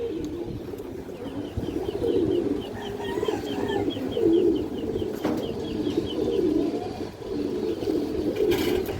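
Pigeons coo steadily in a low, throaty murmur through a pigeon loft or market, with rhythmic warbling swells and faint chirps of other birds in the background; no one speaks.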